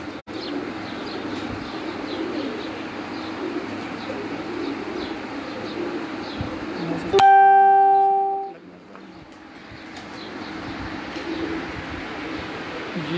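Pigeons from a rooftop loft cooing steadily over a bed of outdoor noise, with a sharp ringing tone breaking in midway, no speech.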